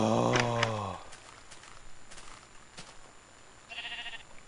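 A Minecraft sheep bleats loudly and close, one long wavering cry in the first second, followed by a quieter, thinner bleat near the end over faint game background.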